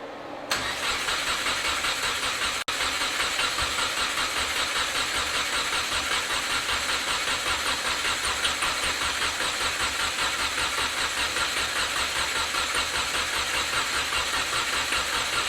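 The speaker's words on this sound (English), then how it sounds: "that's a good place to be for cold motor and it just being running on the starter." Subaru WRX fitted with an STi engine, cold and cranking on the starter for a long steady stretch, a dense continuous whirring churn close by without firing.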